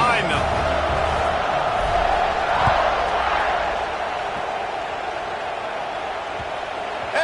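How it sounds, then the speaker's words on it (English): Football stadium crowd before a kickoff, a steady, dense roar of many voices that holds throughout and eases slightly toward the end, with an announcer speaking over it. "They're set to kick it off, and this crowd now ready to get behind them."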